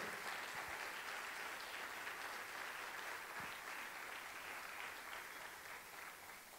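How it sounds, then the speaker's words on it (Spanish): Church congregation applauds during a sermon, a faint, even spread of clapping that continues steadily and tapers slightly toward the end. "¿Cuánto le dan un aplauso al Señor?"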